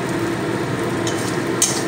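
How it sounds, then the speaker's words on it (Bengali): Prawns frying in a pan, a steady close sizzle and crackle with a couple of brief brighter spatters near the end, no voices. "তো হয়ে গেছে চিংড়ি ভাজা"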